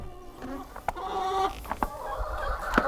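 Chickens clucking inside an insulated coop in the coldest part of winter, several short close calls and rising squawks scattered over a few seconds, with a faint background voice.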